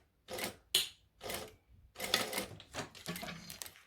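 A sewing machine stitches the edge of a fabric wallet in short separate bursts, each a quick whirring run of needle strokes with brief pauses between them, close and clear.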